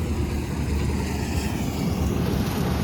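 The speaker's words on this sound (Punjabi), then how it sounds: "ਉਹ ਚੱਲਦੀ ਆ ਮਸ਼ੀਨ" Continuous low rumbling engine drone of a combine harvester cutting paddy, steady and loud, with wind-like noise over it.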